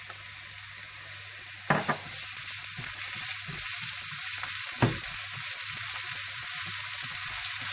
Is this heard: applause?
no